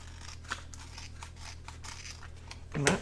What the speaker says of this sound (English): we'll go ahead and trim that off